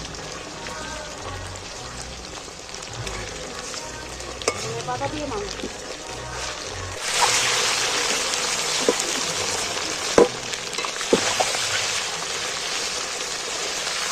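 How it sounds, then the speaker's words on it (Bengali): Chicken pieces fry in hot oil in a pan and are turned over bit by bit. A steady sizzle grows much louder and denser about halfway through, with occasional utensil scrapes and a voice speaking briefly. "আমি একটু একটু করে উল্টিয়ে এক উল্টে ভেজে নিচ্ছি মাংসটা"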